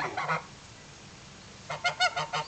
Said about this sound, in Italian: Un'oca del Danubio, eh, questa.